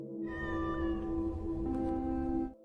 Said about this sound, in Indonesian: membawa tas ransel berisikan kucing.